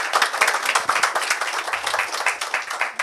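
Lively, close hand clapping from a small audience at an acting class showcase, cheering a performer. The claps are quick, irregular and loud for about three seconds.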